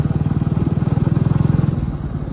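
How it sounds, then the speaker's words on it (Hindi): A motorcycle carrying a rider and a dog on an evening ride thrums along with a loud, steady, rapid engine pulse close to the microphone, easing slightly toward the end. "अभी थोड़ा रियन को घुमाने के लिए लेकर आ गया भाई। तो रियन बाइक में बैठने का अलग ही मज़ा है"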